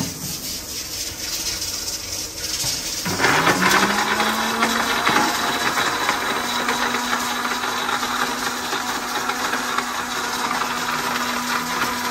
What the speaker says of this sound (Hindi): सफाई करके दोबारा इनू ग्राइंडर कर रहे हैं